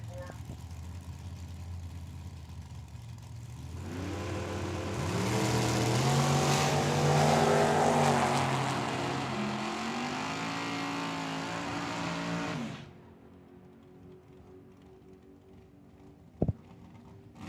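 A dragster and a Fox body car launch side by side in a drag race at Tucson Dragway, loud engines roaring at full throttle for several seconds before cutting off, with an announcer talking over the noise.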